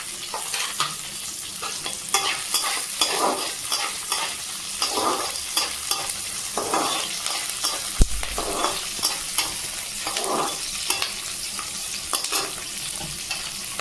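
Chopped capsicum and chilli sizzle steadily in a hot pan while cooking Maggi noodles, with a dense, continuous frying hiss broken by repeated scraping stirs every second or so. No one speaks.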